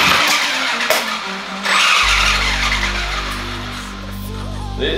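A DF Models Destructor MT RC car lurches off with a short burst of skidding tire noise, then its electric motor settles into a steady whine close by, with a faint voice underneath.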